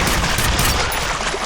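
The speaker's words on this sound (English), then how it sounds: "It's why we call it the penetrator. It sticks people to walls." Penetrator nail gun firing in the shooter game F.E.A.R., a loud dense burst of rapid mechanical shots blending into one continuous barrage, close and harsh from start to finish.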